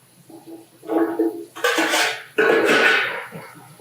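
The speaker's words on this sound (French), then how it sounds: "On va bien remuer." Vegetables, including celery, being stirred in a cooking pot while they sweat, heard as a few close scraping and clattering bursts of a utensil against the pot, rising and falling over a few seconds.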